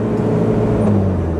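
A 1995 Toyota Mighty X single-cab pickup cruising in fourth gear, its engine giving a loud, steady low drone and whir heard from inside the cab, with no change in pace and no talking.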